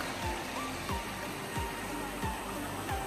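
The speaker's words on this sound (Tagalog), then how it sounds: "Nakarating na kami sa unang tatawiran naming ilog." A river near Ansagan Falls in Benguet rushes as a steady broadband wash, with faint low thuds repeating every second or so beneath the flow.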